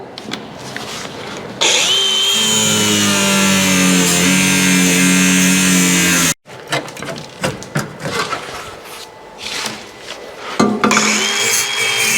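A power cutting tool slices out rusted metal on a Monte Carlo car body, its loud sustained whine holding for several seconds before stopping abruptly, followed by a series of shorter grinding bursts and clatter.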